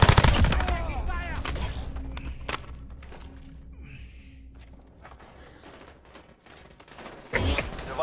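Call of Duty Modern Warfare online match gunfire, rapid bursts of shots crackling up front at the start, then scattered distant shots under game noise before a loud burst returns at the end.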